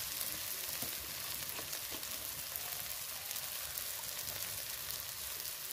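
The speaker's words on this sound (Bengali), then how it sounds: "একদম সব মশলা আমি ভালো করে কষিয়ে নেব।" Spices and tomato frying in oil in a pan give a continuous dense sizzle and crackle, close and even, with a few faint stirring scrapes and no talking.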